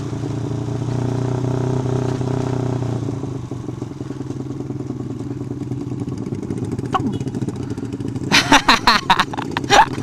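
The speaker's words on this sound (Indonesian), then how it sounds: "motor gua jadi ada berebetnya cuy," A motorcycle engine runs cold and sputters on a hilly road, with a steady mid-pitched drone that roughens into uneven popping and a burst of sharp crackles near the end, close and loud.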